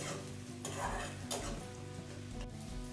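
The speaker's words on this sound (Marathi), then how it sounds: "आता कांदा छान गुलाबी होईपर्यंत व्यवस्थित आपल्याला परतून घ्यायचा आहे" Finely chopped onion sautés in a pan for a boiled-egg curry, a continuous sizzle with the scrape and rustle of stirring rising and falling across a few seconds, no voices.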